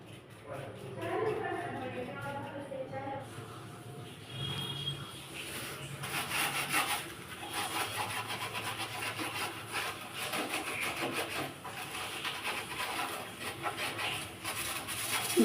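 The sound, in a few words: scrubbing kitchen stove with soap liquid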